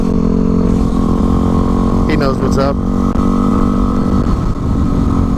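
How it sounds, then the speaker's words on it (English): A loud, steady Yamaha WR250R supermoto motorcycle engine drones throughout at close range, with someone talking briefly over the constant rumble. "Oh, I see another motorcycle up there."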